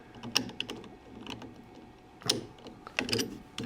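Wrench loosening the collet nut on a CNC machine, a series of close metallic clicks and scrapes in irregular bursts with quiet pauses between.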